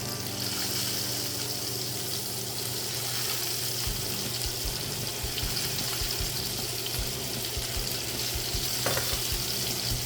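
Butter melts with garlic cloves, rosemary and thyme in a hot pan while a steak is being cooked, producing a continuous close crackling sizzle with light spattering pops and stirring, no talking.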